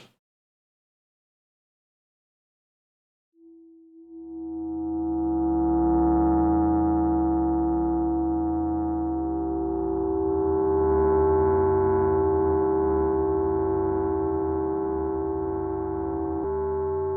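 Synthesized atonal horror drone shaped by LFO modulation swells in after a few seconds of silence, then sustains as a dense, slowly wavering tonal mass with a prominent held pitch, continuous and alone.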